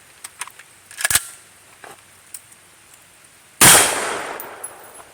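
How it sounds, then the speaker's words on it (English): A suppressed 10.3-inch AR rifle fires a single muffled shot with a short fading tail, preceded by several faint clicks and knocks of handling. "Let's go ahead and try another shot."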